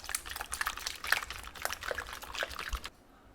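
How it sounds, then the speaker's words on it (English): Creamy coconut milk pours in a steady trickling stream for a coconut creme caramel egg custard, close up and moderately loud, stopping abruptly near the end. "first extract coconut milk going in, creamy as ever, and we're going to whisk the emulsion up"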